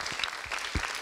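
Audience at a European culture forum on Russia claps for performers in a faint, brief patter of scattered hands.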